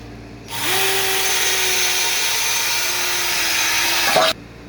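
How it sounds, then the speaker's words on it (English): A power drill whines steadily for several seconds at close range, drilling a hole in metal, holding an even pitch before stopping abruptly. "we'll go ahead and drill the hole for this and get it tapped"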